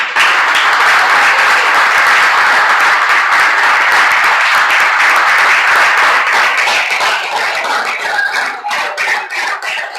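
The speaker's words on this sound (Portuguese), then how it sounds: "Dê um aplauso ao Senhor por isso." A church congregation claps steadily in loud, dense applause that carries on for the full stretch and thins slightly toward the end, with no talk over it.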